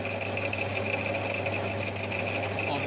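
A lathe turning a buffer head while a cutting tool forms a radius, giving a steady, even machining hum with a faint high whine and no breaks.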